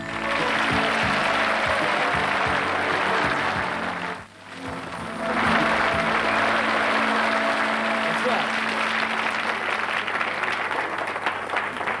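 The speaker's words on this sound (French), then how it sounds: "Je vous demande de recevoir et d'applaudir Monsieur Jean Merlin." An audience at a magic show applauds to welcome the magician Jean Merlin, sustained clapping that dips briefly midway and then swells again, with some voices mixed in.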